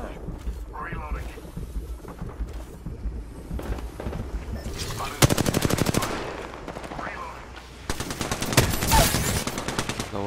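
Automatic gunfire in the battle game Apex Legends, two sustained rapid bursts of shots amid game noise and scattered talking.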